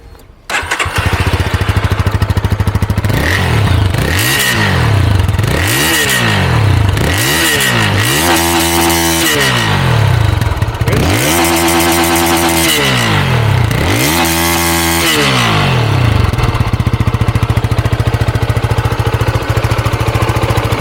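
A new 2025 Lifan KPT 250 motorcycle with a small water-cooled engine runs close and loud, revved sharply about six times in quick succession with brief idle dips between each throttle blip.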